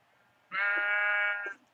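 A sheep in a video game farm world lets out a single sustained bleat, clear and close, about one second long with no talk over it.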